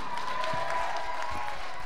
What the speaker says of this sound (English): All right, clap for her.